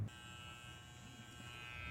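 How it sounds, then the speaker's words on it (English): An electric hair clipper with a guard, plugged into a portable power station, shaving a head: a thin, steady motor buzz with a constant pitch, close but quiet, running without pause and with no talk. "I have bought a new clipper which has a guard, and I'm gonna shave it right here in this video."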